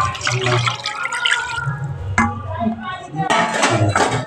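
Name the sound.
water being poured into potato paneer curry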